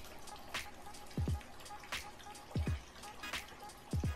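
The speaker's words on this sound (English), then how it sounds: "this crying water fountain." Water drips from a novelty fountain shaped like a crying baby, sharp drops landing in quick pairs at irregular intervals over a soft running trickle, close and fairly quiet.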